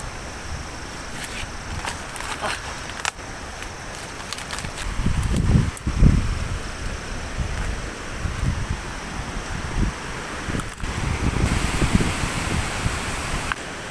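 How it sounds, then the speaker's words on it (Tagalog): Steady broadband roar of super typhoon wind rushing through trees on Camotes Island, with leaves rustling and gusts swelling louder around the middle and toward the end. "hangin lang gyapon diri."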